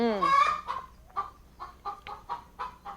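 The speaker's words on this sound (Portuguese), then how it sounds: "Dê um jeito aí nessa galinha." Chicken clucking close by, starting with a loud, drawn-out squawk and then a run of short, rhythmic clucks, with no talking over it.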